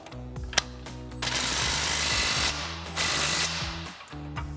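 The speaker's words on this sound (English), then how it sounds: "we're going to go ahead and use our 21mm socket on our impact and a 22mm wrench for your lock nut" Impact wrench with a 21mm socket driving a suspension mounting bolt on a Jeep Wrangler JK during a lift kit install, a loud sustained rattling burst after a sharp click, a short pause, then another rattling run before stopping.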